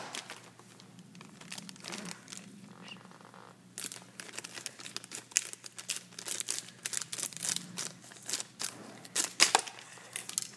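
Sheets of Beyblade stickers being handled, with close crinkling, rustling and crackling in irregular bursts that grow busier and louder partway through, over a quiet background.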